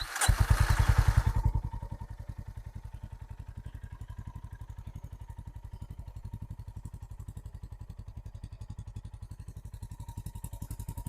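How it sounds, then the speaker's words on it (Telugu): A Honda CB350 H'ness DLX Pro 2026 motorcycle engine cranks and catches with a loud burst, then settles into an even, rhythmic thumping idle close by, without any talking. "దీని engine refinement plus engine beating నేను మీకు చూపించాలనుకుంటున్నాను"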